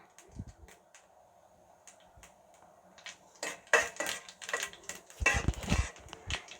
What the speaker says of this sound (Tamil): இப்போ இதோடு நான் கடுகு ஆட் பண்ணிடுறேன். அப்புறம் நெக்ஸ்ட்டு உளுத்தம்பருப்பு. இது நல்லா பொரிஞ்சு வரட்டும்.